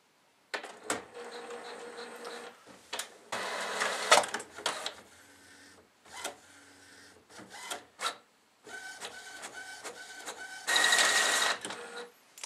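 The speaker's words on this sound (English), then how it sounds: "let's see if it actually starts printing on the printer." A printer feeds and prints a page in bursts of whirring and buzzing motor runs separated by short pauses, with clicks and a final higher-pitched sustained whine, close and alone without talk.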